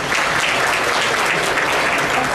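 A large audience at a Republican gubernatorial candidate forum in Oklahoma applauds steadily, a dense, even wash of clapping that fills the whole moment without a pause.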